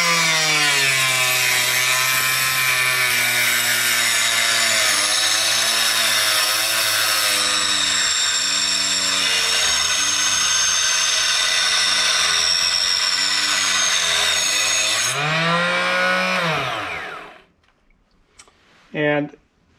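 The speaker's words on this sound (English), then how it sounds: "when you're running that saw and the trimmer" A power saw trims brass cartridge cases for 45 Cowboy Special held in a notched jig, loud and steady with a shifting pitch for about fifteen seconds before winding down, then a brief clatter near the end.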